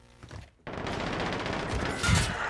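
Rapid bursts of automatic gunfire in Call of Duty Warzone follow a brief near-silent gap, then a dense, loud barrage continues with a heavier burst near the end.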